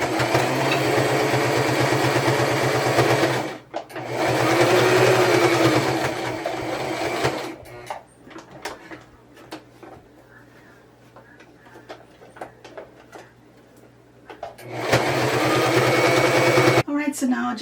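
A sewing machine stitches along the folded edge of a scrappy Christmas potholder, running in loud steady bursts with brief pauses between, and a quieter stretch of fabric handling in the middle.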